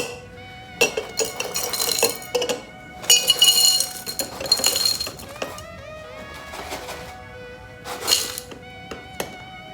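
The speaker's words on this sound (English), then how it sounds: "Let's add our crushed ice to our hurricane glass." Crushed ice clinks and rattles into a hurricane glass for a Painkiller cocktail, with bursts of sharp glassy chinks and thunks close up, spread unevenly over several seconds.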